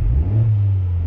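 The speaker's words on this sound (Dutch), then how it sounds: "de motor is een beetje koud, dus ik kan niet te veel gas geven" A cold Honda Type R with its middle silencers removed idles under light throttle, a deep, steady, loud exhaust rumble with a small swell in revs, close by and with no talking.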